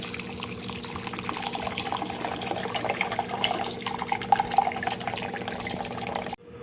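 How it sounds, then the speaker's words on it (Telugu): Water steadily fills a container holding chia seeds for an overnight detox drink, a continuous close pouring rush that runs evenly before stopping abruptly at the end. "ఇలా వాటర్ అంతా ఫిల్ చేసుకొని"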